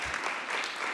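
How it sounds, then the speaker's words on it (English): Audience applause at a panel event on adolescent health, a brief steady burst of many people clapping at moderate volume with no talk over it. "you can applaud if you want"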